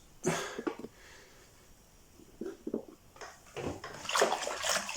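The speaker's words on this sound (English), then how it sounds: "we're just mixing all this wort in" Wort for a Muntons West Coast IPA, a mixture of malt and water, is stirred by hand, giving close, quiet bursts of sloshing and swishing liquid separated by short pauses.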